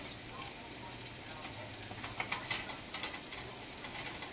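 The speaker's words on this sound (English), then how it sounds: "I love the way onions smell when they're sauteing" Onions sauteing in a pan for shrimp and fish soup, a faint, steady sizzle with a few small crackles and pops near the middle, quiet and close.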